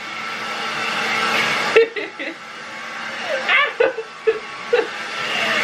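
A hair dryer blows with a steady whir, then cuts out, leaving soft laughing and chuckles close by.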